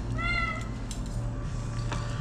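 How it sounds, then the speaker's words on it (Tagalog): A street cat meows a couple of times nearby, short tonal cries over a low steady hum and light background noise. "So yung mga pusa pala rito, mga mga street cat daw."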